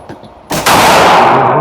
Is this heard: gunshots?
yes